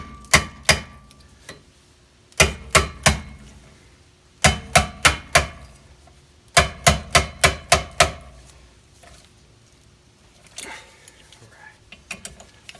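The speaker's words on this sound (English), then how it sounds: "We have to use the impact driver to get these bolts loose." An impact driver hammers brake rotor bolts loose on a Hyundai Elantra, firing in close, loud bursts of three to six sharp rattling impacts separated by short pauses, followed by quieter clinks of tools and parts.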